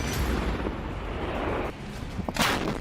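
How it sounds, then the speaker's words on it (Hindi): A heavy ATAGS artillery gun fires a shell: one loud, booming blast with a long rumbling roll, then a second sharp crack near the end, thick low-end noise throughout. "एक ATA-GS हर 10 सेकंड में एक गोला दागती है।"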